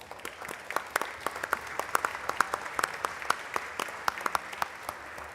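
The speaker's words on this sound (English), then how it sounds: "let's give them a big round of applause" Applause in the Texas House chamber for honored guests being welcomed to the dais, a moderate, steady patter of many hands clapping with distinct individual claps.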